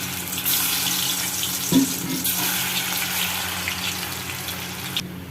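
Rava bonda frying in hot oil in a kadai, a loud, steady hiss of bubbling oil with a brief splash-like burst near the start.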